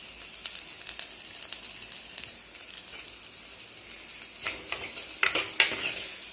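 Onion and grated coconut sauté in a pan for dried fish kulambu, a soft steady sizzle broken by louder scraping stirs of a spoon toward the end, with no talking.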